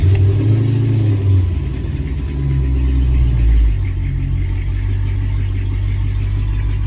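An AWD Hemi car running nearly out of gas rumbles loudly with a low, steady engine note, swelling briefly as it revs and pulls away in drive, with no voices over it.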